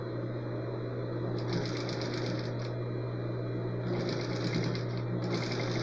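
A sewing machine runs in short bursts as it stitches fabric, a close, rapid mechanical chatter that starts and stops twice over a steady motor hum.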